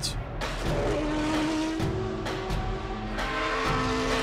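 Prototype and GT race cars at the Le Mans 24 Hours circuit scream past one after another, loud engine whines rising and falling with brief bursts of passing cars.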